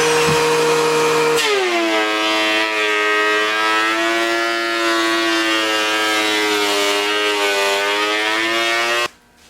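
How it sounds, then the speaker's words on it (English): A wood board being run through a thickness planer to clean up its surface: a loud, steady whining drone with strong ringing tones, holding for several seconds before cutting off abruptly near the end. "we're going to run it through the planer, get rid of the surface here"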